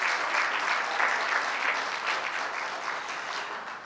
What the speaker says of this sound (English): give yourself a round of applause just for being here this morning